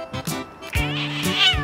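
A cat meows several times in quick succession, close and fairly loud, each call rising and falling with a slightly drawn-out, whiny tone; no one speaks over it.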